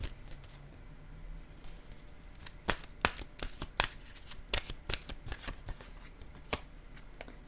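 Playing cards handled from a deck, with a run of crisp close snaps, flicks and slides as cards are shuffled and drawn, quiet overall with sharp individual clicks.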